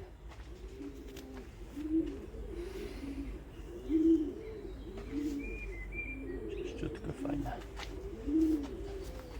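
Pigeons coo in a steady, repeating rhythm of throaty rolling calls, several bouts close by, with a brief spoken remark and a few faint higher chirps mixed in.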